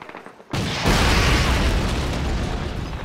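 A Panzer anti-tank rocket launcher blast in Call of Duty: United Offensive: a sudden loud boom about half a second in, then a sustained heavy roar and rumble that holds near and full for the rest of the clip.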